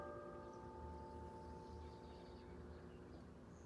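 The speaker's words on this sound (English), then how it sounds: "gosh darn bells." Church bells ring faintly in the distance, a steady sustained tolling that hums on behind a quiet outdoor backdrop with no talking.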